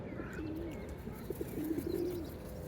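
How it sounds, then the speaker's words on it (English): Pigeons coo softly around a canal boat in Tottenham on the Trent & Mersey Canal, a short burst of low, rolling calls, with a few other bird calls over steady outdoor background noise. "now we are surrounded, absolutely surrounded by birds"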